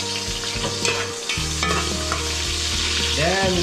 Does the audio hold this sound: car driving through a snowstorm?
no